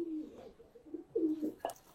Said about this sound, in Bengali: এগুলো আমার সব পাল্লা করা কবুতর।